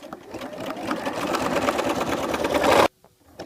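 A sewing machine runs steadily, its needle hammering in a fast, even rhythm as it back stitches around a circle on flannel, then stops abruptly, leaving near silence.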